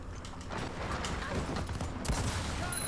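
Gunfire in the Gears of War 4 video game crackles as a dense, continuous burst of shots and mechanical clatter at moderate loudness, mixed with game sound and voices.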